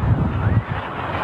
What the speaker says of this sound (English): We just got a huge gust.